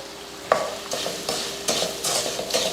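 Ginger, garlic, vegetables and turmeric sautéing in a pan, a soft sizzle punctuated by a steady run of spatula scrapes and stirs, roughly every half second, close up.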